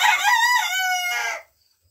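A single Lemon Cuckoo Niederrheiner rooster crows once, close and loud, a bright drawn-out call that cuts off into silence.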